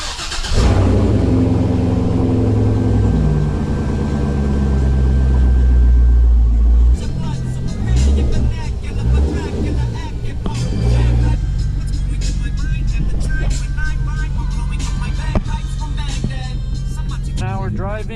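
A C6 Corvette cruises a rainy road in El Paso, a loud steady engine drone with a deep rumble inside the cabin that shifts in pitch partway through as the car rolls on, with no talk.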